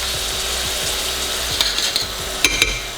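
Garlic and green onions sizzle steadily in a hot pan while being stirred, with soft repeated scraping and a few sharper clinks near the end, no talking.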